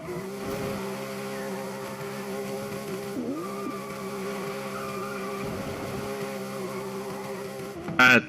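A rear-engine car drifts in Forza Horizon 5 with a sustained engine drone, wavering tire squeal and brief skids. A short loud burst comes right at the end, and no one talks.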